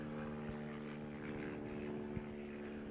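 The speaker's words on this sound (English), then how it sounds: "we've got a plane coming overhead." A propeller airplane passes overhead outdoors on a breezy day, a steady low droning hum with tonal bands that holds at moderate distance throughout, without any talking.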